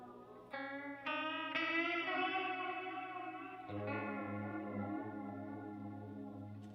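Electric guitar played through a Walrus Slotva pedal with reverb switched on, a few picked notes swelling into a sustained chord and then a lower chord, washing into a long shimmering tail, loud and alone.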